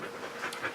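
A dog pants in quick, faint, breathy puffs close by, waiting outside to be let in.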